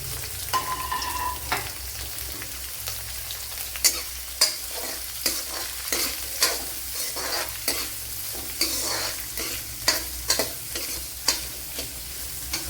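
Sliced onion and small garlic cloves frying in a pan, a steady close sizzle with regular scraping and knocking as a spoon stirs them, and no voices.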